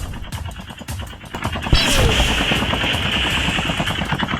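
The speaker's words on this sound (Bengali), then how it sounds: "আমি হেলিকপ্টার উপরে নিয়ে ফায়ার করা শুরু করে দিছি" Helicopter-mounted gunfire in Call of Duty Mobile: rapid repeated shots over a constant rotor drone, with a sharp impact crash partway through, then sustained firing at steady volume.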